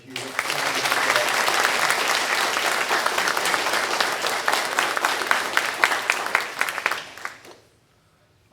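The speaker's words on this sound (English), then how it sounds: "Can we please give all our donors a huge round of applause?" Audience applause for donors at a pavilion groundbreaking ceremony, dense sustained clapping from a sizable crowd for about seven seconds before fading out into quiet.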